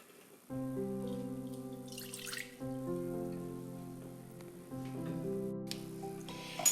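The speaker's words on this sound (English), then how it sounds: "Now it's time to add the water into your boiler." About 100 milliliters of water is poured into a metal double boiler, producing a steady, ringing, resonant pour that comes in a few separate streams, moderately loud and close, with no voices.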